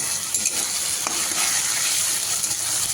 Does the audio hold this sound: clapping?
no